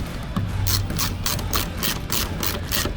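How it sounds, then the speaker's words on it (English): A ratchet clicks in quick, even bursts while tightening 10mm bolts on a Toyota Camry LED tail light, close and clear throughout, with no voices. "Now we're gonna put the 10mm bolts on it."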